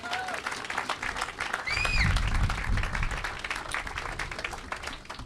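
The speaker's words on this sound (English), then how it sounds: "so give yourselves a hand" Audience applause at a groundbreaking ceremony for the Franklin Cummings Institute of Technology, a crowd clapping steadily and swelling in the middle, with some cheering and chatter mixed in.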